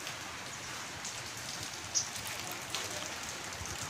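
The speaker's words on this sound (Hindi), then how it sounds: "इतनी तगड़ी बारिश हो रही है" Heavy morning rain falling outdoors, a steady, dense hiss of drops hitting surfaces, fairly close and uninterrupted, with no voices.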